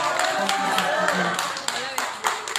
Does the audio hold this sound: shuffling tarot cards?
no